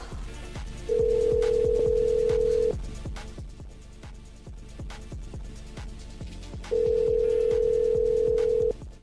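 A telephone line after reaching voicemail: two long steady electronic tones, each about two seconds, sound over a busy rhythmic background of repeated clicks and thumps.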